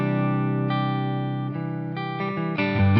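Electric guitar on the neck pickup through an EVH 5150 EL34 50W amp's clean green channel, miked on an old EVH cabinet with light hall reverb, playing sustained ringing chords that change every half second or so, close and steady.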